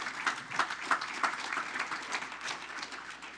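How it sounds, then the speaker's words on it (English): A crowd at a city council meeting applauds steadily for a few seconds, the clapping fairly close with a loose, rhythmic pulse. "Let's give him a round of applause right there."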